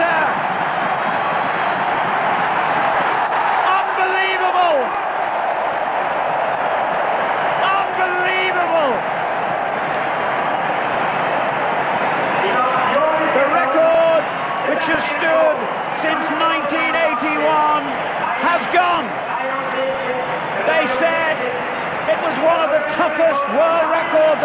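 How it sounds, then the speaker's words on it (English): Stadium crowd in Zurich during an 800m world record race roars continuously, a loud rising wash of cheering and shouting heard under an excited commentator's voice throughout. "Listen to the crowd."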